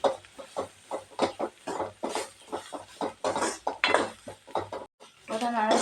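Spice powders being stirred and toasted in a pan for a dried fish curry, with a spoon scraping and clinking against the metal under a person talking steadily.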